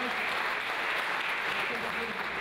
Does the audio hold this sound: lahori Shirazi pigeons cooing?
no